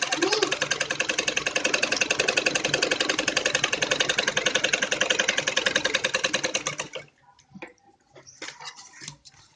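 A sewing machine runs a straight seam on net cloth for a Patiala salwar, its rapid rhythmic clatter loud and close for about seven seconds before cutting off, followed by faint handling noises.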